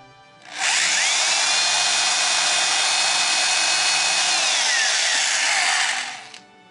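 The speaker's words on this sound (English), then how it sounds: "Start by drilling a hole through the puzzle piece." A power drill bores through a jigsaw puzzle piece laid on a wooden board, a steady whine lasting several seconds that rises to a plateau and stops abruptly.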